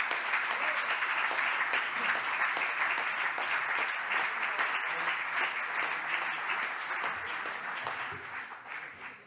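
Steady, dense applause at an awards ceremony for pool and spa trophies, filling the room at moderate loudness and tapering off toward the end.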